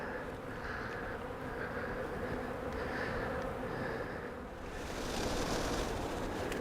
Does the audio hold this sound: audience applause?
no